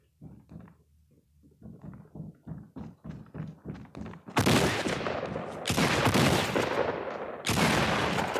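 Gunfire in Fortnite Battle Royale, starting as a run of rapid, evenly spaced muffled shots, then breaking into dense, loud bursts of sustained fire near the listener, with no talk.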